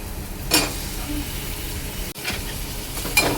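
Drumsticks and potatoes in hot masala oil, giving a steady close sizzle with a few sharper hissing bursts as pieces are added and stirred.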